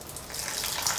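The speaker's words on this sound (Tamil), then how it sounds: "இப்போ இதில் கொஞ்சமாக தண்ணி சேர்க்குறேன்." Water pours steadily for about a second, a close, splashy trickle into a mixer jar of mutton curry masala, with no voices.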